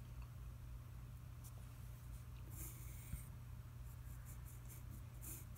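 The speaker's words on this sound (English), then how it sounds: "So I'm starting to sketch some of the contours." Pencil sketching contours on paper for a drawing of two dogs, faint scratchy strokes coming in short bursts over a low steady background hum, no talk.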